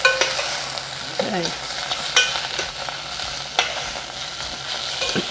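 Mushrooms and garlic frying in a pan for a pork steak and gravy, with a steady close sizzle broken by scraping stirs, and a brief word spoken over it.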